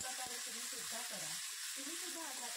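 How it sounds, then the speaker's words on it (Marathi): Cluster beans (gavar) roasting in a pan give a steady soft sizzle with scattered scrapes and stirring clicks, close and continuous, with no one talking. "जेव्हा आपण अशा प्रकारे गवार भाजून म्हणजे व्यवस्थित परतून घेतो"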